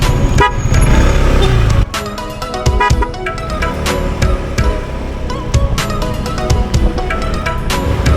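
A Honda ADV 160 scooter rider sounds the horn in loud road traffic near Clark, Pampanga, the honk standing out for about two seconds over steady engine and road noise that carries on afterward.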